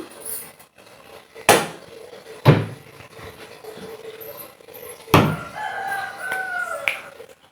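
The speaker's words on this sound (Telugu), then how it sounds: "ఇందులో గిన్నె కోళ్ళు పెడతారు ఇందులో నాటుకోళ్ళు పెడతారు" Country chickens kept in coop boxes: a rooster crows loudly and nearby fowl cluck, with a few sharp knocks and slams from the coops between calls.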